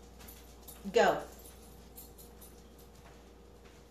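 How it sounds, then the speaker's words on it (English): Dogs give a short burst of whimpering yips around one second in, fairly close, with a person speaking briefly over them and quiet room noise for the rest. "Oh my God, these dogs."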